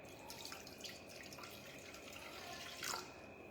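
Water poured into laksa stir fry sauce ingredients gives a faint, steady trickle with small drips and splashes, ending in a brief louder gush, heard close and without talk.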